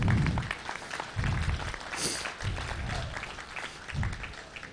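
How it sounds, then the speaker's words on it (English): At a Gelbvieh and Balancer cattle pen show, a crowd gives a scattered round of applause, moderately loud clapping interrupted by low rumbling pulses and background murmur. "Give them a round of applause."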